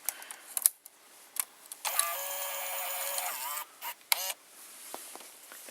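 Cassette carriage of a Sanyo 8mm camcorder tape mechanism sliding back, heard up close as a whirring motorized hum for about two seconds, set among small plastic clicks and clacks in an otherwise quiet room.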